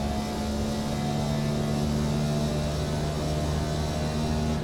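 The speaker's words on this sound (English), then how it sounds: "that big burly NASCAR V8 does sound pretty glorious" NASCAR Next Gen race car's V8 engine accelerating hard at Le Mans, a loud, steady sustained roar with strong low harmonics, held continuously without a break.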